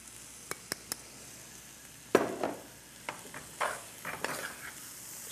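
Green onion stirred into a sizzling roux for turtle stew, giving a low frying hiss with a few sharp utensil taps early on, then louder scraping stir strokes and bursts of sizzle, close and without talk.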